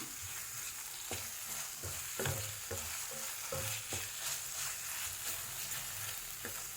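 Tomatoes with salt sauté in a pan for egg rice, a constant soft sizzle broken by regular scraping knocks of a spoon stirring, close and without talk.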